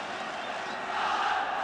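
A packed football crowd roars at Hampden Park for a Scotland v England match, a dense, continuous wall of massed voices that swells slightly louder partway through.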